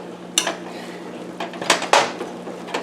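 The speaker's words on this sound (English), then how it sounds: "now you could go ahead and stir it. Stir that white rice." White rice is stirred in a pot with a metal spoon, making several sharp scraping clinks and knocks against the pot's sides and bottom, spaced irregularly over a quiet background with a faint hum.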